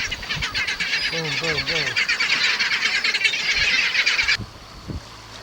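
Seabirds in a feeding frenzy off Baja California squawk and chatter in a busy, overlapping chorus. Someone speaks briefly partway through, then the calls cut off, leaving quieter background.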